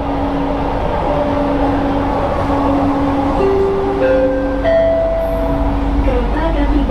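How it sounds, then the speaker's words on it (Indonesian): A driverless LRT Jakarta train slows as it approaches Rasuna Said station, with a loud steady rolling rumble and whining electric motor tones that step and shift in pitch, heard from inside the carriage. "Nah, dia mau berhenti stasiun menurunkan kecepatan."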